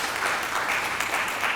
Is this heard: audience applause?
yes